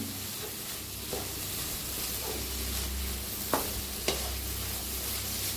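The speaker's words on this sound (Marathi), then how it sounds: "टाकायची कोथंबीर त्याला छान मिक्स करूया" Coriander being stirred into bun bhaji sizzling in a pan, a steady close frying hiss with a few sharp scrapes of the spoon against the pan, no talking.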